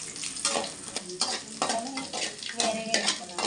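Green chillies fry in a hot pan with a steady sizzle, broken by repeated scraping stirs every half second or so, close and fairly loud, with no talking.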